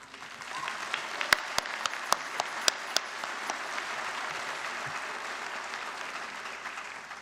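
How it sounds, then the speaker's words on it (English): A crowd at a Mohawk College convocation applauds steadily for several seconds, dense clapping with a few sharper claps standing out near the start, then continuing evenly. "Give yourselves an applause."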